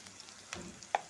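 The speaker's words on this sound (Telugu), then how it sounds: "క్యారెట్, బీన్స్, అలాగే బంగాళదుంప అన్నీ వేసి ఫ్రై చేద్దాం ఒక 5 to 10 minutes" Carrots, beans and potato frying in a pan for a vegetable besan curry, a soft steady sizzle with faint stirring clicks, close and without talk.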